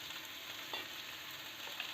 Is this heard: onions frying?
yes